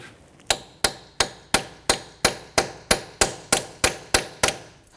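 About a dozen metallic hammer taps ring out on a rusted rear ABS wheel speed sensor of a 2006-2014 Honda Ridgeline, evenly spaced and close, each strike sharp with a short ringing decay.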